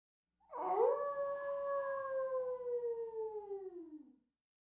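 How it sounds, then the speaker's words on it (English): A single long wolf howl sound effect rises quickly, holds a steady mournful tone for about three seconds, then slides downward and fades, clear and alone against silence. "Wolf."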